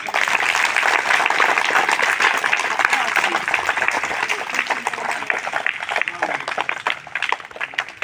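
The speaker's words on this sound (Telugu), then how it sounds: "ఇది ఒకసారి క్లాప్స్ కొట్టండి" An audience claps together at a school gathering, dense sustained applause at close range that thins out toward the end, with voices mixed in.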